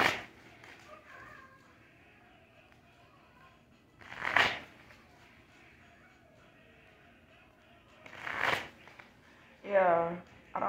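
Tarot cards being shuffled by hand, heard as a few brief, crisp riffling bursts spaced several seconds apart against a quiet room.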